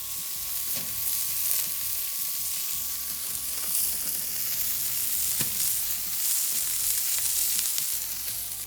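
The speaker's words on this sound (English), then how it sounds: "You can see that we have flare-ups from the burgers on the grill grates." Burgers sizzle on grill grates over a steady crackling hiss, with occasional pops and low rumbling bursts as fat flares up, heard up close with no one speaking.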